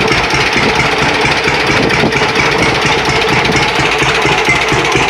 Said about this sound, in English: the sound of that engine pretty well speaks for itself here.